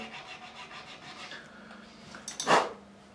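A guitar nut slot on a Fender Stratocaster being filed with light, repeated rasping strokes, ending in one louder, sharper scrape near the end.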